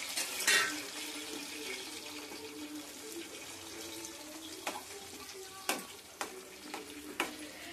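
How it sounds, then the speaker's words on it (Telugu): Prawns frying in hot oil for a Bhimavaram-style prawn pickle, a steady broadband sizzle with a few sharp clinks of a stirring spoon, close and alone without talk. "రొయ్యల్ని నూనెలో బాగా వేయించుకోవాలండి. రొయ్యలు బాగా వేగాలి."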